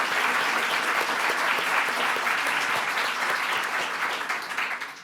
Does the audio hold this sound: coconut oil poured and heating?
no